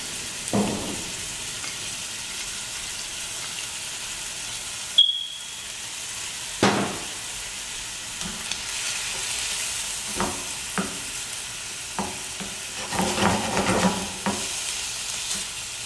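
Shrimp fry in butter in a pan, giving a soft, steady sizzle under occasional sharp utensil clicks and scrapes as they are stirred.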